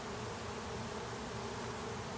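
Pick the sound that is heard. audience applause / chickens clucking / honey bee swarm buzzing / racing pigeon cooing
honey bee swarm buzzing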